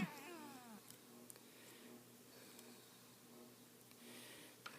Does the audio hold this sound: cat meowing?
yes